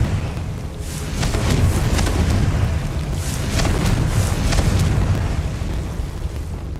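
Confringo fire spell explosion in the Hogwarts Legacy video game, a sustained loud roaring blast with rumbling low end and crackling bursts, swelling over several seconds without speech.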